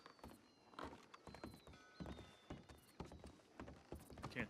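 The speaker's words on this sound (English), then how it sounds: "Can't think with that horse yelling in my ear." Horse in the Red Dead Redemption 2 video game, with brief high neighs and whinnies over scattered clip-clop hoofbeats, quiet and close, with no talking over them.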